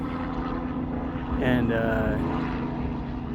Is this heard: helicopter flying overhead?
yes